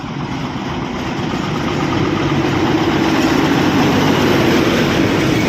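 Darjeeling toy train rumbling past, a loud continuous mechanical roar of engine and wheels that swells slightly and holds steady, close by, with no voices.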